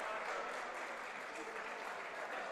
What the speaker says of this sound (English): Crowd giving him a nice round of applause.